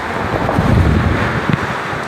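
Wind and churning floodwater whipped up by Typhoon Aghon, a steady loud roar of gusts with rushing water swells rising and falling close to the microphone.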